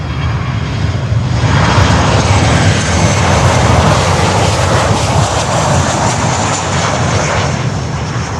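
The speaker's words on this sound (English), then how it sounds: "There is a prop in the air." A propeller aircraft flies overhead near Miami International Airport, its engine a loud, sustained drone that stays close and even from start to finish.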